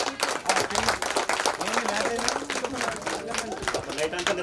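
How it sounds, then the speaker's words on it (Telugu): Group clapping at a school batch reunion gathering, brisk and continuous, close by, with voices and chatter mixed through the claps. "క్లాప్స్."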